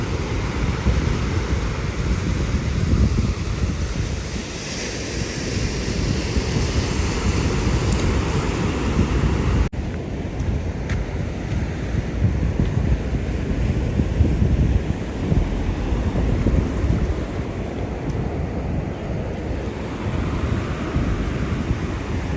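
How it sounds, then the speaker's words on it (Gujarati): Evening waves wash steadily onto a seashore, a continuous broad roar mixed with wind buffeting the microphone, with no voices. "મોજાની લેર આવતી હોય ને"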